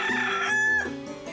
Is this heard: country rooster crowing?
yes